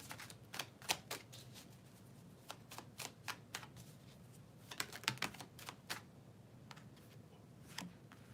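A deck of tarot cards is shuffled close by, with quiet, crisp riffling flicks and taps coming in uneven bursts over a faint background hiss.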